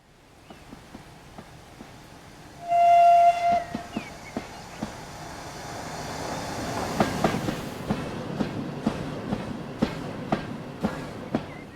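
A Midland Railway 200 class steam locomotive in Train Simulator gives a short, loud whistle blast, then runs on with a rhythmic rail clickety-clack that grows steadily louder.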